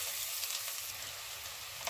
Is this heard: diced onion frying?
yes